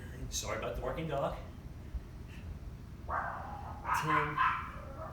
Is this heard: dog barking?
yes